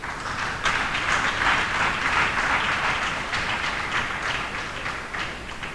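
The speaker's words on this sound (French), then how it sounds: "une initiative heureuse que je vous invite à applaudir sincèrement du fond du cœur" Audience applause at a certificate ceremony, a steady dense wash of many hands clapping that continues without a break, fairly loud and close throughout.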